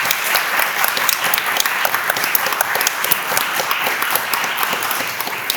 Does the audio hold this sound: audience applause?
yes